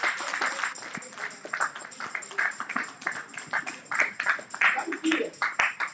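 Church congregation applauding for children at a Sunday service, a steady patter of clapping lasting several seconds with voices speaking over it.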